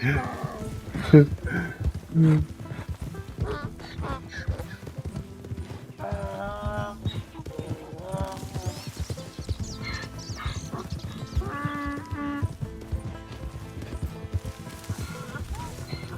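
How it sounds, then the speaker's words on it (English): A donkey's hooves clip-clop steadily in the Red Dead Redemption 2 video game, a moderately loud repeated walking rhythm mixed under game music and ambience while someone talks over it. "this is not a zebra. It's a donkey."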